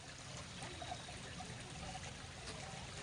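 Water trickles steadily through a bamboo water feature in a woodland garden, a soft continuous close-up flow with no pauses and no one speaking.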